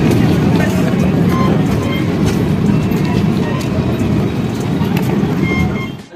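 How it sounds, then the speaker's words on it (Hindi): Intercity Express train pulling out of Jhanjharpur Junction station, with a steady, loud low rumble of wheels and carriages running continuously throughout before easing off at the very end. "फाइनली अपनी ट्रेन 2 मिनट हॉल्ट के बाद डिपार्चर हो रही"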